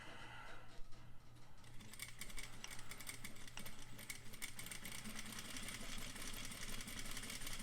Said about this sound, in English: So I'm going to go ahead and do this in one swift sewing movement.